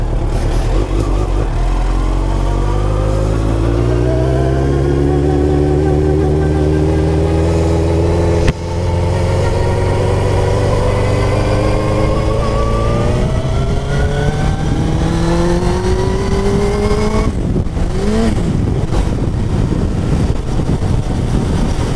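A Suzuki GSX-R 1000 SRAD K3 motorcycle engine revs loudly and close by, its pitch climbing through a long pull, broken by a sharp click of a gear shift, then rising again before dropping away.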